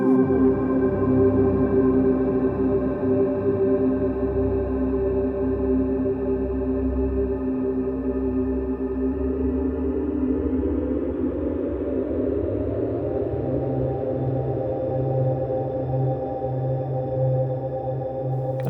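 A sustained Ableton Wavetable pad synth chord holds throughout, loud and continuous, with layered tones that bend and shift downward in pitch partway through before settling into a steady drone.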